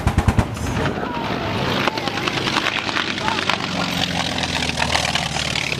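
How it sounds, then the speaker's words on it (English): A T-28 warbird airplane makes a low strafing pass at an airshow demonstration, its engine roaring loud and close with a rapid rattling burst at the start, while a commentator's voice carries over it. "He could strafe the enemy ground troops, and we'll give you a little demonstration of that."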